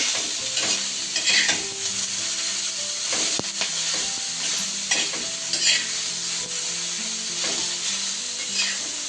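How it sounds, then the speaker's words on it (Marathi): Dark masala roasting in oil for Maharashtrian mutton, a continuous close sizzle with repeated stirring scrapes, no talk. "तेल टाकून घेतलं आणि छान ते आता 5 मिनिट भाजते."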